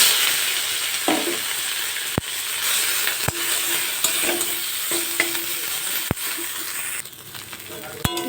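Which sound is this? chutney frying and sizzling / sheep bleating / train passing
chutney frying and sizzling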